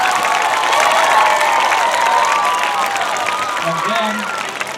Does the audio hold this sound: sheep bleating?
no